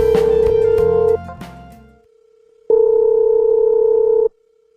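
A telephone dial tone plays while calling papa in an animated drama: a steady electronic hum emerges from a brief musical passage, fades, then returns as a clean, sustained tone before cutting off.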